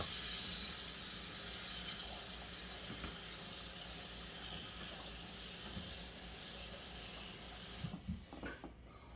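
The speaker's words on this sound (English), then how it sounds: "So I'm going to add water." Water runs steadily from a faucet into a small pot in a home kitchen, a continuous close hiss and splash that stops near the end with a few clinks and drips.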